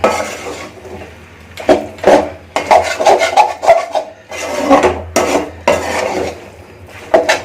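A squid roast stirred in a pan in a village kitchen, loud close scraping and rasping strokes of a spoon against the pan in irregular bursts with short pauses.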